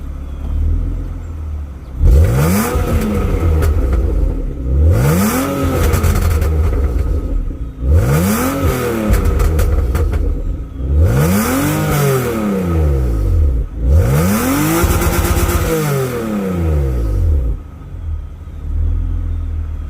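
Revs from a tuned BMW E36 with a burble tune, five loud close blips, each rising and falling evenly, with short idle gaps between them and no talk.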